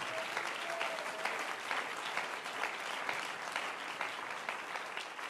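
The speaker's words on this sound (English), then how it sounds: "Clap your hands if you believe that." A church congregation claps its hands during a sermon, a continuous, moderately loud spread of many hands clapping together with scattered sharper claps standing out, steady from start to finish.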